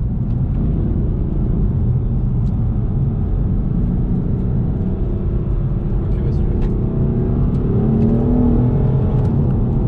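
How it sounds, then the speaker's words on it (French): A BMW M4 six-cylinder engine with open exhaust drones steadily at low revs throughout, a smooth continuous rumble heard from close by, with faint voices underneath. "on se laisse bercer par cette douce mélodie qu'est le 6 cylindres"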